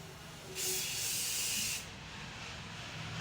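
Shine spray is sprayed onto styled hair in a single steady hissing burst of about a second. The burst is close and clear, over a quiet background.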